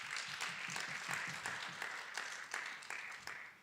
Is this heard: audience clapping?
yes